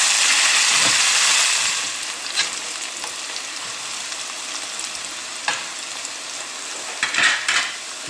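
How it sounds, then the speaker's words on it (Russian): Potato pieces fry in a pan with a sizzle that is loud at first and then settles, while a utensil scrapes and stirs them in short strokes. "Картошку не забываем мешать,"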